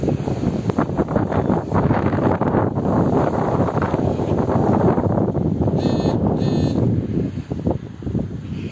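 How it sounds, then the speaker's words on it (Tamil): Strong, constant wind on a hilltop roars and buffets the microphone, a loud rushing noise with no pauses throughout. "காற்று ஃபுல்லாக அடிச்சிட்டு இருக்கு."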